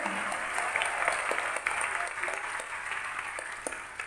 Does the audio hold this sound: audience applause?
yes